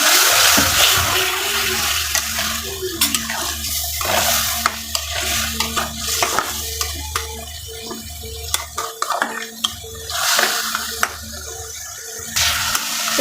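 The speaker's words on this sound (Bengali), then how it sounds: "এটা একটু কষিয়ে নিয়ে সবজিটা দেব।" Pieces of rohu fish fry in a pan with cumin powder while being stirred, giving a loud, steady sizzle broken by repeated scraping and clattering stir strokes close by.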